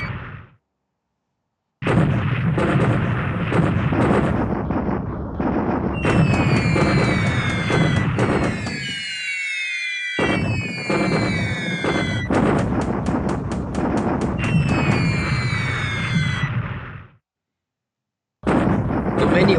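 Wartime explosions and gunfire from the strategy game War in the Pacific, with bombs bursting in loud, dense rolling barrages and whistling tones sweeping through parts of the sequence, broken by a couple of brief silences.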